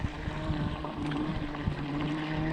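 A Proboat BlackJack 42-inch RC boat putters slowly across a lake at low throttle, its motor giving a steady, rough whirring hum with wind and water noise around it.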